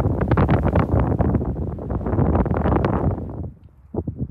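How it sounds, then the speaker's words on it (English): Loud, steady wind buffeting the microphone in the Alaskan outdoors, a rough low roar that drops briefly near the end before gusting back. "It's pretty windy right now."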